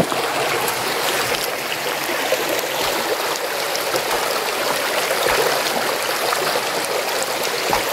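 The Sundarijal stream rushes steadily over rocks, a continuous broadband wash of flowing water, close and fairly loud throughout with no voices.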